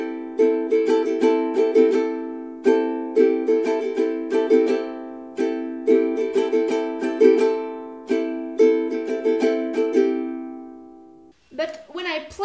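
Bright nylon-string ukulele strummed with down strokes on every chord of a song, a repeating pattern of crisp strokes with short gaps, ending with a brief sound at the close.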